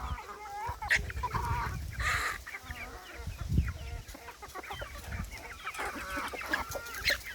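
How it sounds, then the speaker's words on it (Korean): Several Araucana chickens cluck and squawk over a busy, noisy background, with overlapping calls and occasional louder bursts. "여기 전부 청계닭입니다."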